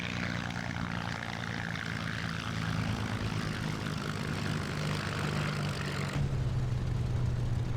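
Steady drone of a Merlin piston aircraft engine in a flight combat video game, a continuous propeller hum with a shift in pitch and tone near the end, alone with no talk.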